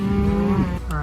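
A cow lets out a single loud, close, drawn-out moo on a farm in winter, its calf gone missing.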